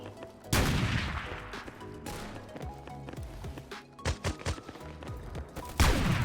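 Rapid gunfire from a sniper-style first-person shooter video game, with sharp loud bursts and clustered shots across the stretch, some louder reports near the start and end.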